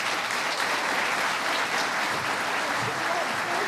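An audience applauds to welcome a comedian onstage, a dense, steady wash of clapping that fills the whole stretch at strong volume.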